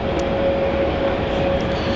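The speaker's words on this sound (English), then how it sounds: "our next heavy arrival on finals now for runway 16 is Vietnam Airlines flight 781 arriving in from Ho Chi Minh City" A Vietnam Airlines Airbus A350 on final approach to runway 16 at Melbourne Airport gives off a steady, loud jet engine roar with a constant whine, heard continuously.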